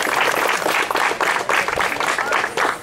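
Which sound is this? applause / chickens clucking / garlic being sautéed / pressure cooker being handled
applause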